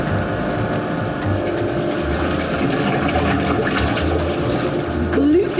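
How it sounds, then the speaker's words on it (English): A paint disperser blade spins fast inside a paint factory mixing vessel, producing a loud, steady churning roar with low rumbling pulses throughout, sounding watery and machine-like. "the disperser blade is spinning really fast and it makes a lot of noise"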